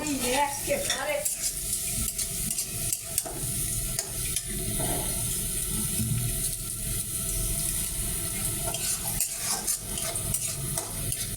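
Onions fry in a pan while being stirred until brown, a dense continuous sizzle with scraping and stirring clatter running throughout, close and fairly loud, with no talking.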